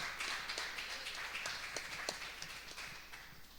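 A church congregation applauds to welcome a pastor, a soft, distant patter of many hands clapping steadily for a few seconds in a worship hall.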